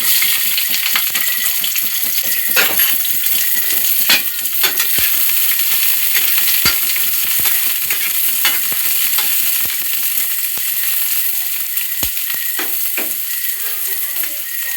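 Onion and garlic sauté in hot oil for a shrimp dish, giving a steady, bright sizzle throughout with scattered scraping and stirring clicks close by.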